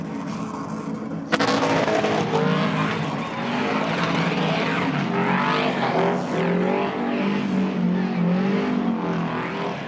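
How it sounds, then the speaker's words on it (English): A drag racing car doing a long smoky skid at Sydney Dragway, a loud, continuous engine roar with screeching tires held at full noise for several seconds. "That was a great skid, Dave."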